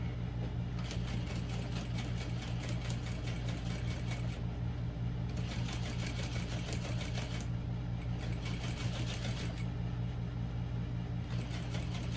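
A sewing machine stitches a vinyl barrel bag in several steady runs separated by brief pauses, over a constant low motor hum.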